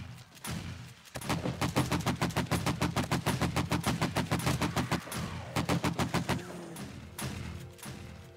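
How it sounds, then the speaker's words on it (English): Sustained full-auto AK-47 rifle bursts from the survival game 7 Days to Die, loud and close, a dense rhythmic chatter of shots broken by a few short pauses. "We'll break out this AK-47 again."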